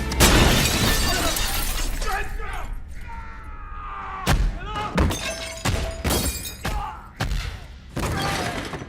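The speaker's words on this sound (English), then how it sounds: "we hear some of the Cadmus scientists being beaten to a pulp," Brutal off-screen beating of scientists in a dark sci-fi drama scene, heard as loud repeated thuds, smashes and crashes in irregular bursts, mixed with cries and voices.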